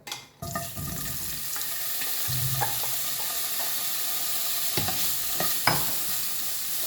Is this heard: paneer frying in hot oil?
yes